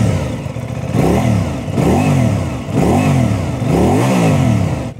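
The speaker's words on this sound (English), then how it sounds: "Pretty standard sound for a parallel twin with a 270 crank." Aprilia RS 660 parallel-twin motorcycle with a 270-degree crank, revved repeatedly while standing: four loud, close bursts that rise and fall in pitch, each blip climbing then dropping back to a throbbing idle, with no talking.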